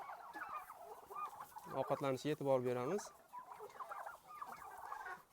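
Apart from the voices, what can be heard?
Big 6 turkey poults in a coop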